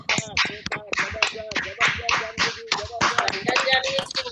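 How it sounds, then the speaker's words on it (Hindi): Participants in an online leadership session clap over open microphones, a string of uneven hand claps mixed with voices talking over them. "तालियां बजाइए।"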